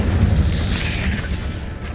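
An Incendio fire spell is cast in Hogwarts Legacy, producing a loud, sustained whooshing roar of flame with a deep rumbling body that fades slowly over two seconds.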